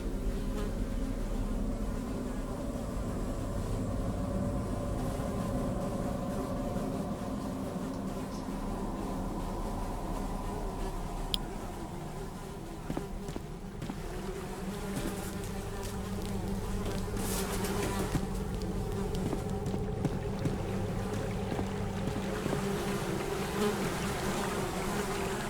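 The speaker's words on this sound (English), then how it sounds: "Despite the buzzing flies, you hear the faintest sound of rushing water that seems to be coming from the farthest hole." Flies swarm and drone continuously in a dungeon latrine in the Secret of Weepstone game, a dense, steady buzzing that carries on for the whole stretch at moderate loudness, with no talking.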